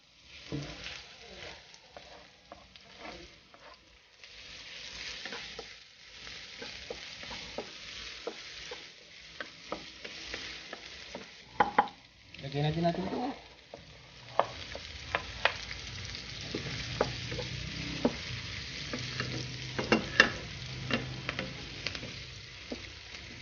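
Garlic fries and sizzles in a pan, with steady crackling and repeated stirring scrapes running throughout, close and moderately loud, with a few sharper clatters toward the end.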